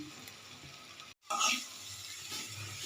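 Chopped carrots stirred in a pan with oil and turmeric. A soft sizzle runs under brief scraping and clattering of the spoon, with a short gap in the middle, heard up close and quiet.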